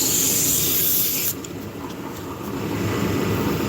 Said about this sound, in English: Turn the speed down on the lathe and we'll sand it out.